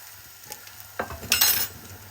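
Prawns being added to a pan of frying caramelized onions for a Sri Lankan-style prawn and aubergine fry, giving a sudden burst of sizzling and stirring that flares loud, then settles to a softer crackle.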